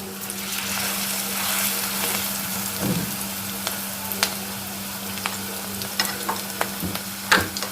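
Cabbage fritter batter fries in hot oil with a steady, close sizzle. Scattered sharp pops and light clinks from a spoon break through, and no one speaks.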